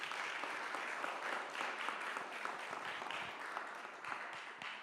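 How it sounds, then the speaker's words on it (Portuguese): A congregation at a church service applauds, a soft, steady patter of many hands clapping from across the room that holds evenly and tapers slightly at the end. "Aplausos para o Abraão."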